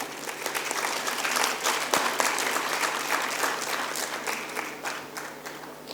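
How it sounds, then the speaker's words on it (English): Sustained applause from a conference audience filling the room, steady and fairly loud, tapering slightly toward the end. "I'd like us to give an applause to Dr. Vikrant Singh Thomas"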